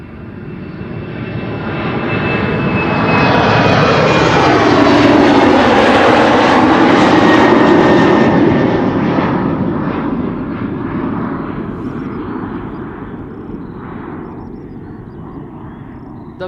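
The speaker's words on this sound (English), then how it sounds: "And back to the Embraer 190." An Embraer 190 jet airliner passes close and loud at Schiphol, its engine roar swelling with a whining tone, peaking mid-pass, then slowly fading as it moves away.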